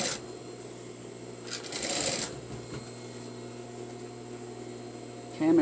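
A home sewing machine stitches a quarter-inch seam on an all-in-one garment facing, running in a few short close bursts over a steady low electrical hum.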